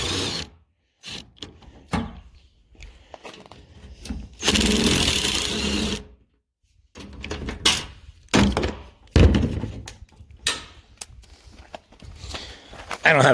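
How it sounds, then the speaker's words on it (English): Screws are driven out of an IBC tote with a T40 Torx bit on a power drill, heard as several short whirring bursts, one longer run and thunks, all close by, with talking between them. "So we're going to run these screws out right here."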